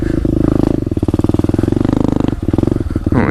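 Loud, close pit bike engine while riding, a rapid pulsing putter that rises and falls with throttle throughout, with a brief rev near the end.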